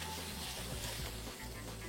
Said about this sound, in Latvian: Tuns cepās.